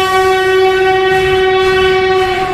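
A train sounds its horn loudly and steadily as it passes a town railroad station, a sustained chord held throughout with a rumbling rail noise beneath it.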